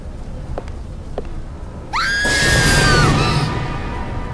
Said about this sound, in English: that scream came from the room behind this door!